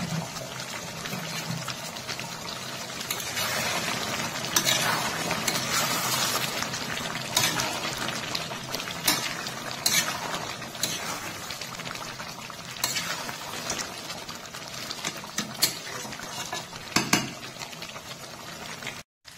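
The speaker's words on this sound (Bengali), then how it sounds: "গ্যাসের স্পিড মিডিয়াম রেখে বেশ কিছুক্ষণ নেড়ে চেড়ে মাংস ভালো করে কষিয়ে নিয়েছি।" Goat meat being stirred and browned in a pot over a medium gas flame, cooked village-style with simple spices: a steady, close sizzle of frying runs throughout, with repeated scraping and clatter of the stirring utensil against the pot.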